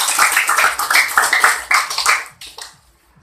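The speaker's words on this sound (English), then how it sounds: "So let's clap our hands for you." Audience applause for debate students, dense and close, a steady wash of many hands that fades out over the final second.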